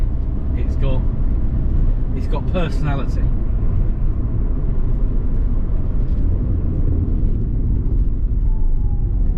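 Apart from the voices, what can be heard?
Rover Streetwise 2.0 turbo diesel engine driving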